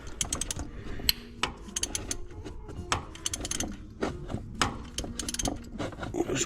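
A ratchet wrench on an extension loosens a bolt during oil pressure sensor repair on a Ram 1500, making close, rapid clicking ratchet bursts mixed with metallic knocks and rubbing.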